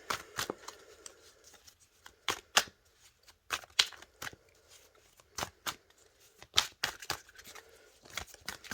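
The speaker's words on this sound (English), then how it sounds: "let me pull one more card" Oracle cards shuffled by hand, sharp crisp riffling and slapping bursts spaced irregularly with quiet gaps between, close and clear.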